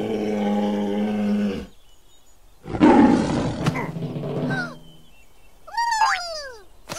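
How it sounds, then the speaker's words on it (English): A bear roaring in a kids' educational game about forests: several loud, separate growling roars with pauses between them, the last one rising and wavering, with no talking. "A scary bear jumped out of the forest."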